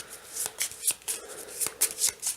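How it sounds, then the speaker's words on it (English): Cards riffled and shuffled in quick bursts, crisp fluttering snaps repeating close up with no talking. "I would take my deck with the added card that I just bought in it, take it, shuffle it"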